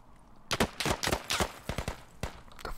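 Gunfire in the military shooter Squad: a quick irregular string of sharp shots, some in close bursts, moderately distant and standing alone without talk.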